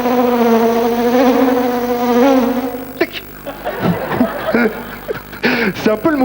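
A man imitates a buzzing fly with his voice on a 1995 French television game show, a sustained nasal droning hum with wavering pitch for about three seconds, followed by studio chatter and talking.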